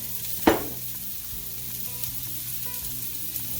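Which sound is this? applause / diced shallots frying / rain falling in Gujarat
diced shallots frying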